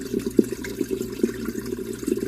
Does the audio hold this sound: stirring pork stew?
no